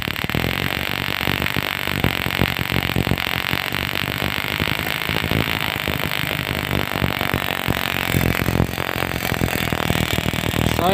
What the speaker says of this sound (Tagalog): so paanda rin natin yung ating motor